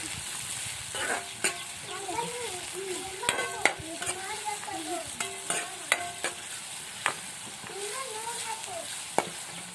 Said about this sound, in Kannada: ಇವಾಗ ಫ್ರೈ ಮಾಡ್ಕೊಳ್ತೀನಿ ನೋಡ್ರಿ